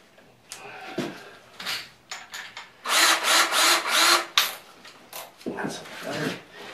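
A power driver runs star-tip screws into a backer panel, giving several short whirring bursts with a longer sustained run in the middle. Brief handling clatter falls between the bursts, and faint talk is heard.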